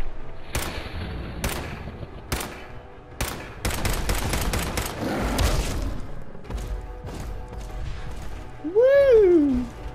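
Gunfire from a weapon in Fallout 4 rings out as several separate loud shots, then a dense rapid burst, followed by a rising and falling whistling tone near the end.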